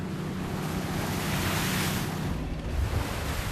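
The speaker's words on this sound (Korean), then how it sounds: "다음 어장으로 이동하는 사이 부쩍 험해진 파도" Rough winter sea surf roars steadily around a small fishing boat, with waves crashing and rushing water close by, mixed with gusts of wind buffeting the microphone.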